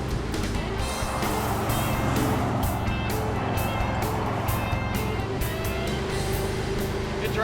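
A Chevy Tri-Five junkyard rescue car driving down the road, heard as a loud, continuous engine and road roar with gusts of wind rushing past.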